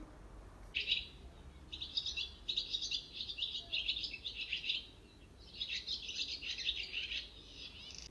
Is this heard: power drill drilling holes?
no